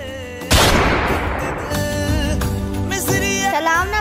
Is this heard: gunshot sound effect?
yes